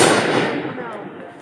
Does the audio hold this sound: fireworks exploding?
yes